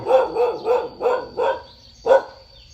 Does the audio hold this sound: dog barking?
yes